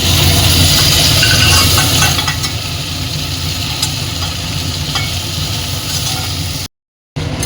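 Prawns fry in oil in a pan, a steady broadband sizzle that runs evenly at close range with faint stirring scrapes, with no talk, then a brief dropout near the end.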